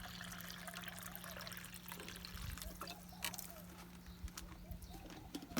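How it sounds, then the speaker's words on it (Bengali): Water is poured for a pair of caged pet pigeons: a faint, quiet trickle and a few soft drips and splashes in a hushed space, with light bird sounds. "তো আমি এখানে পানি দিয়ে দিতেছি।"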